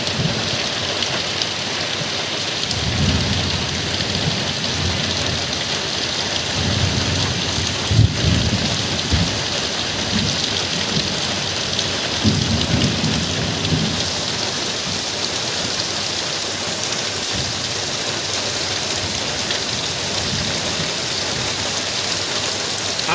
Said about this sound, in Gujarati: આજ તો મિત્રો બહુ વરસાદ આવ્યો।